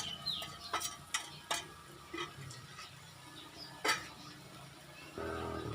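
A spoon scrapes and stirs a shrimp and glass noodle mixture seasoned with pepper, in soft, irregular strokes that sound quiet and close, with a low steady hiss underneath.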